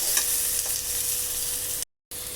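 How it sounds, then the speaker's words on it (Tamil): Tomatoes sauté in a pan, giving a steady, close, bright frying hiss and sizzle with faint stirring for about two seconds before a brief cut to silence and a return of the sizzle. "தக்காளி நல்லா கரைஞ்சி நல்லா வர வரைக்கும் நல்லா வதக்கிக்கணும்."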